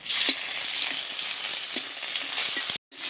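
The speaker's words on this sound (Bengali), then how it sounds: "আদা রসুন বাটা দিয়েছি, নেড়ে চেড়ে নিয়েছি" Chopped onions fry with ginger-garlic paste in a pan, giving a loud, continuous close sizzle with faint knocks of stirring underneath, ending in a brief silence.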